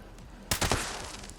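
Explosive rifle shots from the Fixer in Fallout 76, a sharp blast followed quickly by a second and third crack that trail off into a rumbling echo, loud and standing alone.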